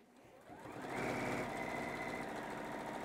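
A sewing machine top-stitches the binding on a quilt, its motor spinning up over the first second into a fast, steady whir that runs on alone at close range.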